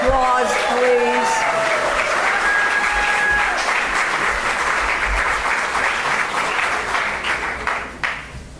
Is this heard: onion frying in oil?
no